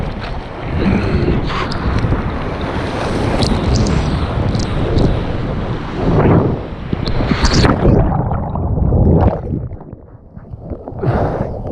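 Ocean waves break and surge near the water's surface, heavy rolling wash with gusts of wind buffeting the microphone, rising and falling over several seconds before thinning out.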